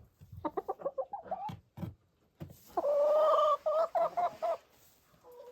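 Chickens fight in a loud, close-range squabble, with a burst of rapid clucks and squawks, then a run of sharp, harsh cackling calls, and brief pauses between the flurries.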